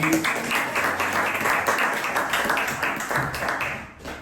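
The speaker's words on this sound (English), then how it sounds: "An applause, please." A small audience at a book presentation claps steadily for roughly four seconds, a moderately loud patter of many hands that tapers off at the close.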